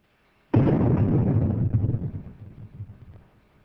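A nuclear test detonation fired as a low-burst shell from the Army's 280 mm gun erupts in a sudden deep boom after a brief silence, then rumbles and rolls away over about three seconds.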